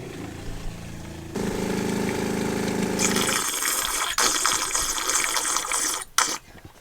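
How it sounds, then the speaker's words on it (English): An electric water pump on a narrowboat runs with the water tank empty, starting as a droning whir that shifts into a harsher, gurgling hiss with sputters and a brief cutout near the end. "Our water pump makes special noise when we have no water in the tank."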